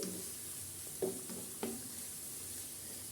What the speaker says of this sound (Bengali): এখন এগুলো একটু বেশ ভালো করে ভেজে নেব